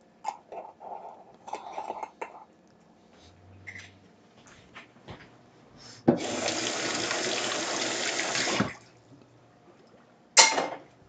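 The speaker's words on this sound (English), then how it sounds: "We're just going to fill the jar with water." Tap water gushes into a jar for about three seconds in a steady, loud hiss after some kitchen clatter and handling knocks, then a short splash and clink follow.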